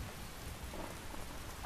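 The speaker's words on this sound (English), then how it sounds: "I just love the sound of rain." Steady rain from a Skyrim weather mod hissing softly and evenly, a continuous wash of drops with no voices, fairly quiet throughout.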